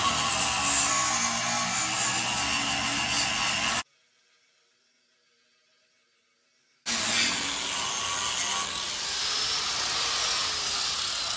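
An angle grinder fitted with a flap disc works metal in a home workshop, giving a loud, steady high-pitched whine with a hiss. It cuts out for about three seconds and then starts up again.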